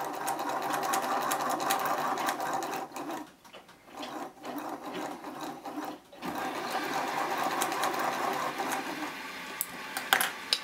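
An electric motor drives the strumming bar of a homemade self-strumming guitar mechanism, giving a steady buzzing whir with a brief dip partway through and a small clack near the end.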